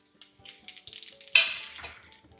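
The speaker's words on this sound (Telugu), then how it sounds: "నూనె వేడెక్కాక బిర్యానీ ఆకు సాజీరా లవంగాలు దాల్చిన చెక్క యాలకులు" Whole spices — bay leaf, shahi jeera, cloves, cinnamon and cardamom — dropped into hot oil for a South Indian baby potato kurma, a sharp burst of sizzling crackle rising midway over lighter pan clatter, then fading.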